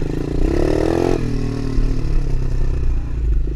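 A DB24 pit bike engine runs close by with a rising rev that drops off sharply, then carries on at a rough, buzzy idle-to-throttle drone with some clatter, and no talking.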